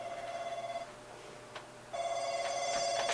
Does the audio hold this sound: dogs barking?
no